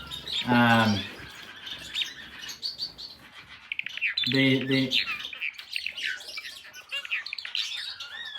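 A male red-headed Amadina finch's bright, high chirping song runs through most of the stretch, with a short spoken word near the start and another voice briefly later.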